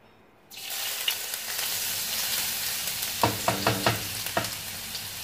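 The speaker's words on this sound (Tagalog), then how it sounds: "So, mag-fry na tayo ngayon ng luya." Ginger slices hit hot oil and settle into a steady sizzle, with a few sharp spits and crackles popping up partway through; no one talks.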